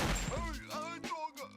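A single gunshot in a Family Guy cartoon scene bursts loud at the very start and quickly dies away, followed by cartoon voices talking.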